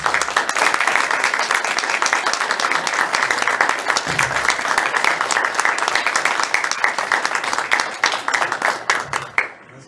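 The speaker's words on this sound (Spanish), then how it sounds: "un aplauso por favor para nuestros panelistas" A room full of people applauds panelists steadily with dense, loud clapping for several seconds, thinning out and fading near the end.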